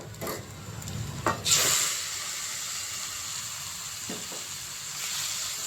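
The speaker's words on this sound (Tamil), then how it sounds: "இப்போ நான் சிக்கனை அதில் சேர்க்க போகிறேன்." Marinated chicken drops into a pan of frying onions, giving a faint, steady sizzle with a few brief clatters and stirring scrapes near the start and a soft thump later.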